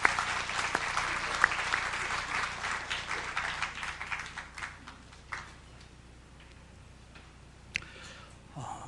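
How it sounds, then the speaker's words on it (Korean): Audience applause welcoming a visiting professor to a church mission lecture, a moderate indoor clapping wash that thins out after about five seconds with a few scattered late claps. "우리 박수로 환영해 주시기 바랍니다."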